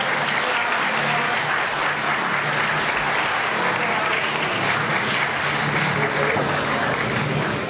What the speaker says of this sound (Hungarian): tapsoljuk meg a versenyzőket